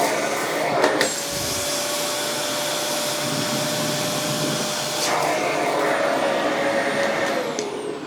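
An AmazonBasics vacuum cleaner runs steadily with its suction dial turned up near maximum, a loud, continuous motor whine and airflow roar heard close up, with a brief bump near the start and a slight surge in pitch partway through.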